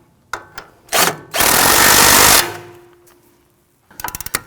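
A sway bar end link nut on a 2001-2009 Volvo S60 is run down with a power tool: a few short bursts, then one sustained, loud whirring spin of about a second, and finally a quick run of clicks.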